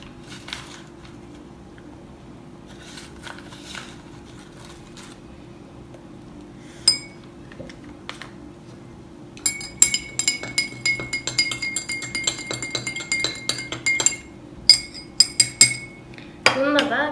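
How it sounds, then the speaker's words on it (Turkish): Metal spoon clinking repeatedly against a drinking glass while baking soda is stirred into vinegar at home, with quiet room tone first and rapid ringing taps building in the second half. "son bardağa da birazcık iki kaşık yaklaşık karbonat e, koyacağım"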